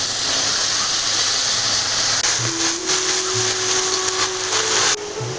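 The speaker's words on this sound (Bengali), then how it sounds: "এখন পেঁয়াজ বাটাটা আমি তেলের মধ্যে দিয়ে দেবো" Onion paste, ground from two medium onions, hits hot oil with nigella seeds and sets off a loud, steady broadband hiss of frying. A brief thin tone joins partway through, and the sizzle drops slightly near the end.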